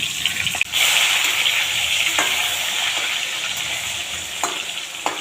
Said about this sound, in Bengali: এবার আমি আরেক পিঠ ভাজার জন্য দিয়ে দিলাম